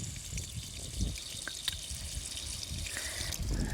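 Water runs steadily from a running motor pump outlet outdoors on a farm, a continuous rushing splash with a few brief drips standing out, fairly close and alone without talk.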